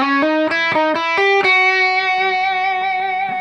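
A distorted electric guitar runs a short diminished-scale sequence, six quick legato notes stepping in pitch and then one held note that rings out and slowly fades, with nobody talking.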